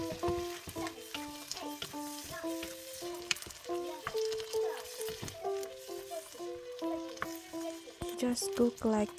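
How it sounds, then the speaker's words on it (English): Corn cooks in melted butter in a wok with a soft, steady sizzle, heard beneath background music and a talking voice. "In the wok, just add small cube of butter. Then cook the corn on it."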